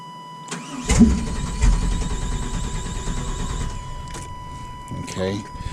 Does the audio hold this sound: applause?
no